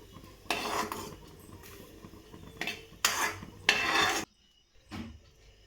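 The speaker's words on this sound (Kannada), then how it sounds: "ಗೋಡಂಬಿ ದ್ರಾಕ್ಷಿ 2 ಕೆಂಪಗಾಗೋ ಮಟ್ಟ ಒಟ್ಟಿಗೆ ಹುರ್ಕೊಳ್ಳೋಣ" Cashews and raisins roasting together in ghee, heard as a few separate bursts of clinking and scraping of a spoon against the pan over a faint background, then quiet.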